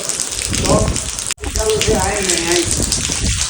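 Heavy rain pours steadily with a dense, hissing roar, and a voice speaks over it.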